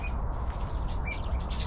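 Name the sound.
birds calling at a zoo on Yelagin Island, pheasant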